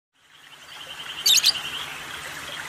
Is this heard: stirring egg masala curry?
no